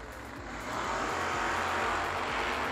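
A Chevrolet Vega and a Camaro launch side by side at a drag strip, engines swelling into a loud, sustained roar with a rising drone, heard from nearby at a New Year Nationals race.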